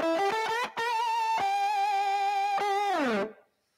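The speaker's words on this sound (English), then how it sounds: "And then over that, I've got my fuzz tone that I was talking about." Distorted Epiphone electric guitar through a fuzz pedal with a buzzy tone, a few quick plucked notes then a long sustained note that bends down and cuts off.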